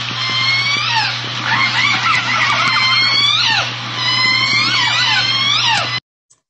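Southern resident killer whales of J-Pod call in an underwater recording, overlapping upswept whistles and harmonic pulsed calls in quick succession over a steady low hum, fairly loud and close, ending abruptly.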